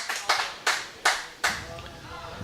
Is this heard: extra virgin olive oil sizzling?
no